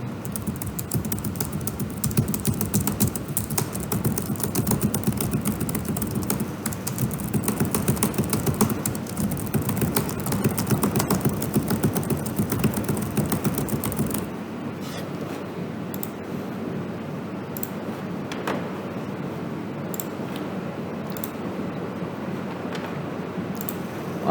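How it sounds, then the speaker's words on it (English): Someone types on a computer keyboard, with dense, continuous keystrokes for the first stretch, then sparser, scattered key taps against a quieter background. "I will type some"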